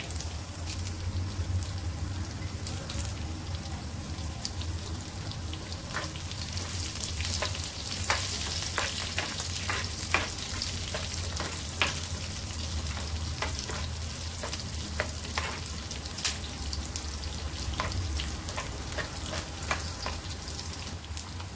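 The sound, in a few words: garlic and curry leaves frying in oil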